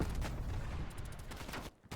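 Rapid machine gun fire in the Call of Duty Cold War video game, a dense continuous burst of shots with explosive booms, loud and close, cutting out briefly near the end before resuming.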